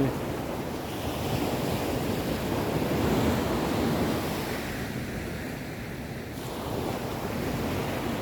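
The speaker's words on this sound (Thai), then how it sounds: "พาเพื่อนๆมาดู น้ำทะเลติด ชายหาดเลยนะครับวันนี้" Sea waves wash continuously onto the beach at Hat Nam Rin in Thailand, a steady close surf roar with wind buffeting the microphone.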